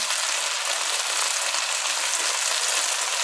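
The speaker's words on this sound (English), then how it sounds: "We just fry the onions for about 30 seconds or so." Onions fry in a hot pan with a steady, bright, even sizzle that holds without a break, close and fairly loud, with no voices.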